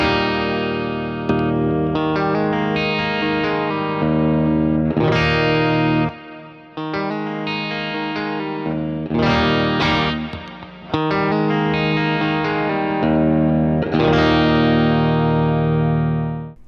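Electric guitar played through a compressor pedal with a touch of Big Sky reverb, giving even, sustained chords and notes with smooth, full decay; a steady, loud phrase of several strums that rings out alone.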